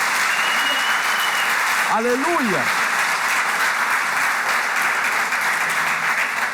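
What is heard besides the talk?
loud applause in church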